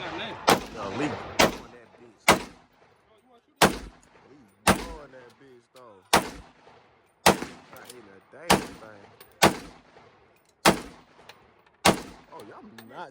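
Gunfire at an indoor gun range, about a dozen loud sharp shots spaced roughly a second apart, each with a short ringing decay, and faint voices in the background.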